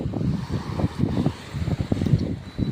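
Gusty wind buffets the microphone in uneven rushes, with a low roar of open water and surf churning underneath, no voices heard.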